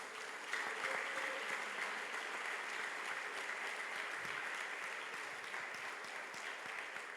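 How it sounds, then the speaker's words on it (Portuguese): Steady applause from a large crowd at a church youth congress, continuous and even throughout, with no voices standing out. "Você que tem mãos pode aplaudir a Jesus nessa noite."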